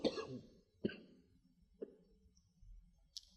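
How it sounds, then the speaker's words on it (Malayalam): A man acts out a bout of harsh coughing, four separate coughs spaced about a second apart, close and fairly loud with quiet gaps between them. "ഭയങ്കര ചുമ"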